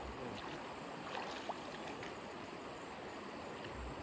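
River water flows at a clean riverside, a steady faint broadband rush with one brief splash-like tick, no talk.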